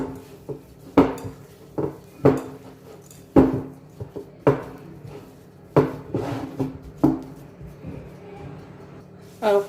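Oat flour cookie dough with chocolate chips is stirred in a bowl, a sequence of clinking, knocking utensil strikes against the bowl at an irregular rhythm, fairly close, with no talking.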